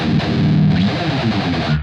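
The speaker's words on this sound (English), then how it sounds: "The first part of the riff is just muted string noise." Distorted electric guitar riff built on palm-muted string noise, a loud, dense, gritty rhythmic chug with a sliding note near the middle, cutting off abruptly at the end, no talking.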